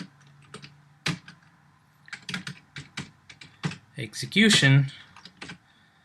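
Code is typed on a computer keyboard in irregular bursts of clicking keystrokes, with a quick clattering run near the end, while someone speaks briefly.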